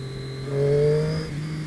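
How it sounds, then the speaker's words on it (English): A sport motorcycle engine revs up to high RPM, its pitch climbing and holding briefly before easing back down, heard fairly close with no talking. "it sounds so much nicer when you get it up in the RPMs"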